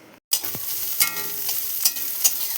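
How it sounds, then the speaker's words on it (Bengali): Onion and green chili fry in hot oil with a loud, continuous sizzle, broken by a few scraping stirs of a spoon close by. "এদিকে দেখো পেঁয়াজ কাঁচা লঙ্কা ভাজা করছি"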